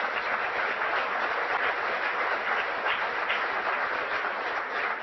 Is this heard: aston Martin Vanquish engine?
no